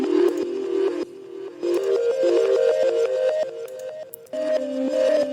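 Reversed gamelan microtonal plucks with delay swell in stepwise melodic phrases, bright and echoing, in three close sections split by short drops.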